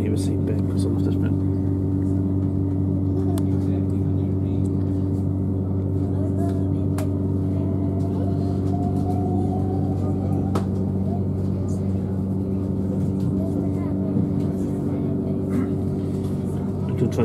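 A Southern Class 377 electric train pulls away from Gatwick Airport, heard from inside as a steady low hum and rumble with faint rising motor whine and a few sharp clicks, continuous and moderately quiet.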